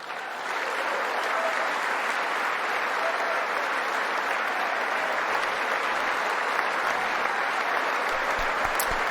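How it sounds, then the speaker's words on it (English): Large crowd applauds continuously, a thick, even wash of many hands clapping that holds steady at full strength from start to finish. "everyone's clapping"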